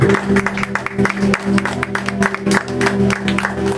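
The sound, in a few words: church congregation applause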